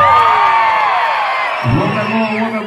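A rodeo crowd shouts and cheers loudly and close, many voices whooping and yelling together in a sustained roar that dips briefly before rising again.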